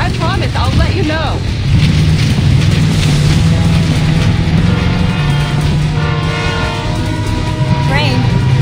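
A train rumbles steadily nearby with a long sustained horn blast, voices calling out briefly over the continuous loud rolling noise.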